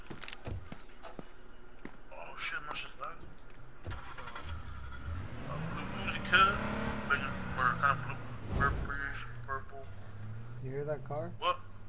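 A car engine in the game H1Z1 revs and drives past, rising and falling in pitch, with bursts of other game effects and some voices around it.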